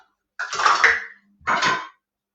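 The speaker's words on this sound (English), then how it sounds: "So these are muffin pans" Metal muffin pans clatter and scrape in a kitchen as they are handled, two separate bursts of bright metallic rattling close by, with no talk over them.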